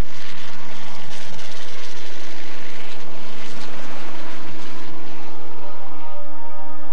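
A helicopter flies low over crop circles in a field, its loud, steady rotor and engine drone filling the whole passage with no voices.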